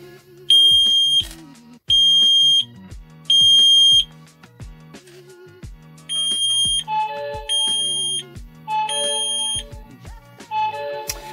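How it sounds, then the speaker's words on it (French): Loud electronic beeps from a Wi-Fi smoke detector under manual test sound in short repeated bursts, a shrill high tone broken by pauses, with a second melodic alarm pattern joining later. "on va faire maintenant un test d'alarme manuel pour savoir si les informations sont bien envoyées sur votre téléphone"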